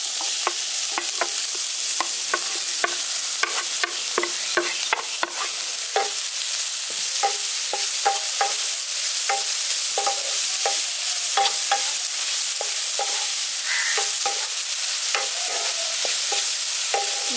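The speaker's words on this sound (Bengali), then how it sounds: "গাজরটা দিয়ে ঘিয়ের সঙ্গে হালকা একটু ভেজে নিচ্ছি।" Grated carrot frying in melted ghee in a pan, with a steady close sizzle and repeated scraping taps of a spoon stirring throughout, no voices.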